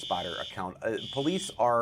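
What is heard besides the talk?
fire alarm going off in a TV studio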